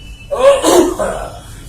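A doctor demonstrates a single sneeze, a short breathy burst with a voiced edge lasting about a second, close to the microphone.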